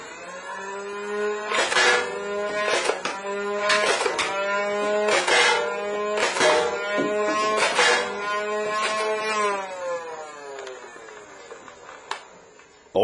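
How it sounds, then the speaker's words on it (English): A custom motorized Nerf blaster mod fires darts, a loud whining motor tone with a rhythmic burst of about ten quick shots punching through it, close up, then the whine winds down. "let's shoot some freaking darts."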